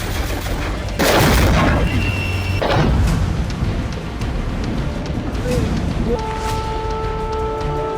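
Two loud booming blasts from a Russian drone strike on Reni port, Ukraine, about a second apart, sound at a distance over a rumbling background, followed by quieter noise and a steady tone.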